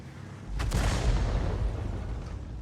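A heavy tank gun fires in World of Tanks with a deep, close boom, followed by a long rumbling roar that stays loud and slowly trails off.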